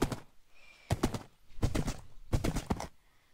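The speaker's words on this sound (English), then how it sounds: "Hey, we got a horse." A video game horse neighs in three short bursts, each a quick rough whinny, close and fairly loud with brief pauses between them.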